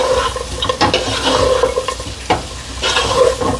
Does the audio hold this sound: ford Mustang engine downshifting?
no